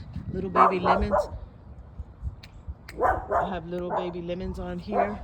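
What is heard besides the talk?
dogs barking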